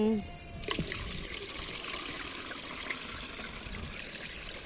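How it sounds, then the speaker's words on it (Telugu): Homemade liquid fertilizer cum pesticide trickles and splashes steadily through a filter as it is poured, a continuous close watery stream that persists throughout while people talk. "ఫిల్టర్ చేసుకుందాం దూరం జరగాలి మీద పడుతుంది"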